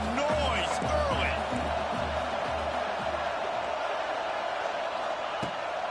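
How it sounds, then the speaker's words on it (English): A stadium crowd in an American football video game keeps up a dense, continuous roar with scattered whoops and sharp thuds. It is loudest at the start and settles slightly, and a voice talks briefly over it. "This crowd bringing the energy and noise early."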